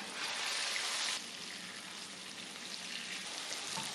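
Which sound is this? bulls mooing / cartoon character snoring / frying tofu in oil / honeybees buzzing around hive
frying tofu in oil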